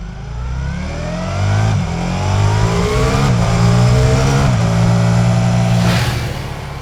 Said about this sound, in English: this is the Multistrada, kind of at its best, just cruising along